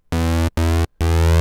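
A Virus TI synthesizer running in Cubase plays three loud, buzzy sustained notes, the last one longest, separated by short gaps of silence.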